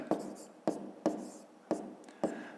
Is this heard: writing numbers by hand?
yes